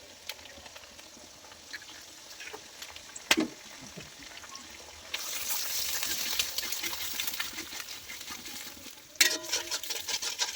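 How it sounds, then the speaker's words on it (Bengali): Eggs frying with vegetables in a pan for pasta are stirred with a spatula, soft scraping and clicks first, then a steady sizzle swells and continues, with occasional sharp clinks against the pan. "তো বন্ধুরা ডিমগুলো আমার ভাজা হয়ে গেছে খুব ভালোভাবে"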